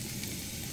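Garlic and shrimp sizzle in butter at a campsite on Seongmodo, Ganghwa. The frying is a short, steady, soft hiss with no voices.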